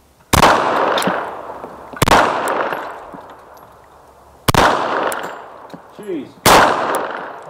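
Four loud handgun shots, close and sharp, fired on a training range at uneven intervals of about two seconds, each one followed by a decaying echo with quiet pauses between.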